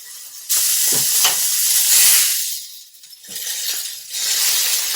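A flat iron steak sears in a hot pan, a loud continuous hiss and sizzle that swells and dips for a few seconds, close and with no voices.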